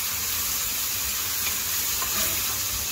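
Beef, sirloin fat and mushrooms sizzle continuously in a hot pan as they are stirred, a dense, even frying crackle that stays close and fairly loud throughout.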